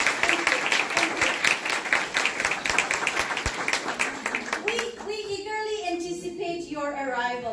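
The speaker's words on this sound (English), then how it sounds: "So can we have a round of applause?" An audience claps for staff at a summer program's closing ceremony, a dense burst of steady applause that thins out after a few seconds while a voice carries on over the fading clapping.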